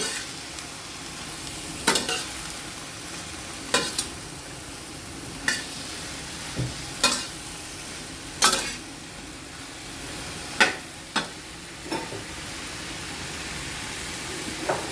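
Cabbage stir-fries, sizzling steadily in a hot pan while a utensil scrapes and clanks against the metal every couple of seconds, close and alone.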